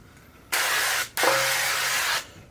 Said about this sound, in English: hit it with some non-stick cooking spray